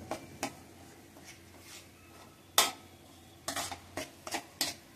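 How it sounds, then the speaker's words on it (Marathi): Masala with Kashmiri chili, bedki chili and coriander sautéed for white onion sabzi: a spoon scrapes and clinks against the pan in scattered strokes, with a faint sizzle underneath and a few sharper knocks near the end. "तर छान परतून घ्यायचं आहे मसाला"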